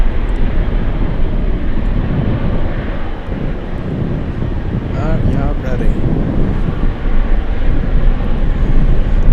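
A C-130 Hercules turboprop roars past at Anchorage airport, its steady engine drone mixed with heavy gusting wind buffeting the microphone throughout.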